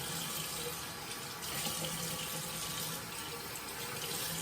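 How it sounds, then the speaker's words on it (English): A bathroom sink tap runs cold water for rinsing during a wet shave, giving a steady, close, continuous splashing stream with no talk. "Doing a cold water rinse because it's a reasonably warm day."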